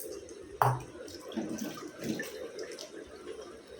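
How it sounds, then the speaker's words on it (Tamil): Tamarind water is poured into a simmering fish curry in a pot, starting with a brief splash and then a soft, quiet trickle and bubbling with no one talking. "இது கூட நம்ம கரைச்சி வச்ச புளி தண்ணியை சேர்த்துக்கலாங்க"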